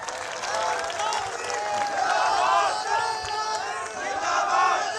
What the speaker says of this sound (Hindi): हम और आप ताली बजा रहे हैं